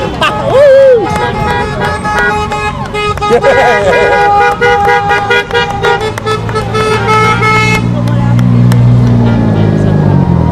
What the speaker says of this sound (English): Wow, that's a big truck.